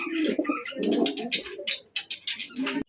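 Black racer pigeons coo in a series of soft, throaty calls, close and clear, with a sharp click near the end.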